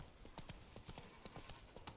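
Roach the horse's hooves clip-clop steadily in The Witcher 3, a brisk walking rhythm of repeated hoof strikes, fairly close and clear over a low ambient bed.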